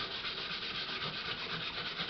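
A steel pot scraper scrubs a gourd under hot running water, a close, steady, harsh rasping scrub with a running-water hiss and no break or talk.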